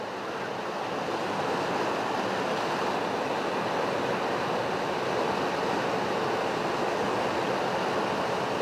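River water flowing fast with broken ice and slush floating downstream on a cold day, a steady, full rushing wash with no pauses, close and fairly loud, nothing else over it.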